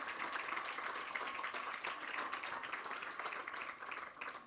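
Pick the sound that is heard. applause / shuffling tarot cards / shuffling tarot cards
applause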